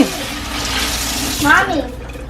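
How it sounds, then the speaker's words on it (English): Tap water runs steadily over chicken feet and beef neck bones being washed for cooking, a close, continuous splashing rush that swells briefly near the end. "wash off the chicken, chicken foot and beef. Wash it off and make it clean."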